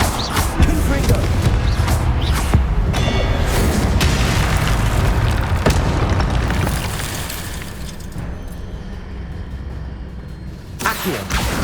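A Confringo spell explosion in the Hogwarts Legacy video game: a loud booming blast with crackling debris that rumbles on for several seconds before fading, then a final burst near the end.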